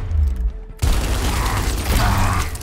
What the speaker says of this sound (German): Verwende Leer oder Maus 1, um einen Schuss abzugeben.